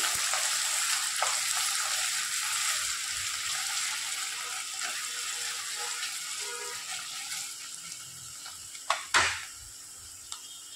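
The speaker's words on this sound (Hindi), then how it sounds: "कांदा आपण फ्राय करून घेऊ" Sliced onion sizzles steadily in a pan while frying for mutton curry, a soft continuous crackle with a few sharp clicks of a utensil near the end.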